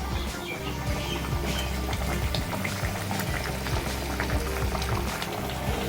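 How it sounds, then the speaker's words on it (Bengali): Dahi hilsa fish curry boiling on a gas stove, a dense, continuous bubbling and popping close up, steady and fairly loud throughout with no voices. "গ্যাসের আঁচটাকে বাড়িয়ে আমি 2 মিনিট একটু ফুটিয়ে নেব"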